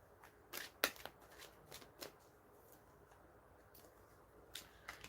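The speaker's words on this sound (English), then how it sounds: "that's a rough shuffle right there" Tarot cards being shuffled in quiet, faint bursts, a few quick riffling flurries with soft pauses between them, close by and alone.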